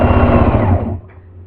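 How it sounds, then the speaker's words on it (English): A sewing machine running in a fast, loud whirring burst at close range, its motor humming steadily before winding down and stopping partway through. "this is going to take a long time for me to sew"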